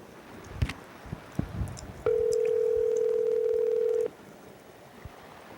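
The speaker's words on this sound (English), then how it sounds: "Oh, it's my ringtone?" A single steady electronic tone sounds for about two seconds amid faint background knocks and rustles, like a phone ringing once.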